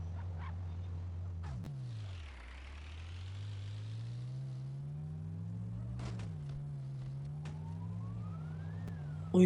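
A police car siren in the Rope Hero video game wails in long rising and falling sweeps, loud and up close, with engine drone beneath and a few sharp game effects.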